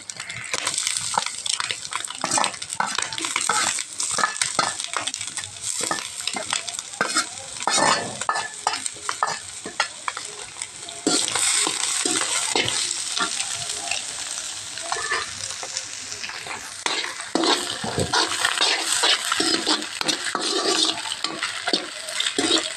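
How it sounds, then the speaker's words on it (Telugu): Onions, green chillies, tomatoes and curry leaves sizzle loudly in hot oil while being stirred for egg fried rice, with dense, rapid spatula scrapes running continuously for over twenty seconds; no speech. "ఇప్పుడు 1 నిమిషం పాటు ఇది కూడా నూనెలో అయితే కొద్దిగా వేగాలి"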